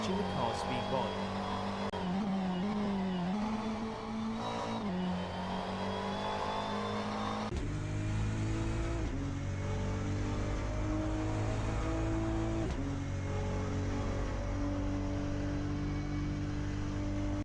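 GT3 race cars in a sim racing game roar past, engines rising and falling in pitch as they speed by and shift gears, a continuous loud drone with a commentator talking over it.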